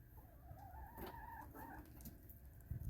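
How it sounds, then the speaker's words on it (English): Backyard chickens cluck and crow outdoors in a flock of hens, faint and distant against steady background noise, with no one talking. "I'm coming out here to see what the chickens are doing. They're being super loud."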